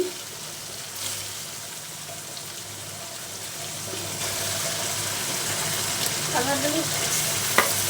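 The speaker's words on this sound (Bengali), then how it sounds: "এখন মাংসটা দিয়ে দিচ্ছি" Chicken pieces going into a pan of fried ground spice paste, a steady moderate sizzle that grows slightly louder midway, with a few faint clinks of utensils, close by.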